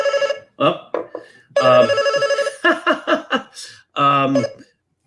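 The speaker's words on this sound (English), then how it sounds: "That's my phone. I will have to get that later." A telephone rings in repeated electronic bursts, loud and close, with short pauses between each ring.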